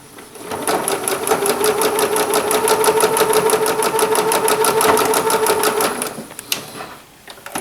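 Sewing machine stitching steadily while chain piecing flying geese quilt units, a fast, even mechanical whir with rapid needle clicks that runs for about six seconds, then slows and stops.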